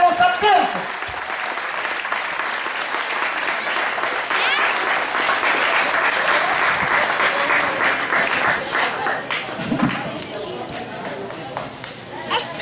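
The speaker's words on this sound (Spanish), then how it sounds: "¡Fuerte los aplausos!" A crowd applauds loudly and continuously at a graduation ceremony, dense clapping that swells and slowly thins out toward the end.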